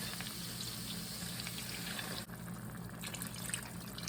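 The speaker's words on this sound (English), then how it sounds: "Now that our meatballs are browned on both sides, we're going to add 2 cups of beef broth." Beef broth poured into a pot of browned meatballs, a faint continuous liquid splash and sizzle with a brief dip partway through, with no voices.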